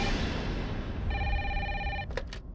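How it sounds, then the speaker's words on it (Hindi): A telephone rings in a tense police-drama scene, a steady electronic ring tone cutting through background noise, then broken off by two short bursts. "कैसा फोन है, फिर भी बज रही है।"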